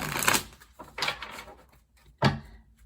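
Tarot cards are shuffled by hand at close range in three short, separate bursts of riffling, with quiet pauses between them.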